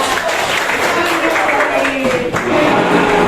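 A class of students claps a single-clap pattern together, with dense clapping heard close up under a teacher's voice speaking over it.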